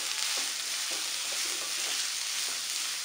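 Carrots, beans and cabbage sautéing in a pan for egg fried rice, a steady soft sizzle with faint scrapes of stirring, heard alone with no voices.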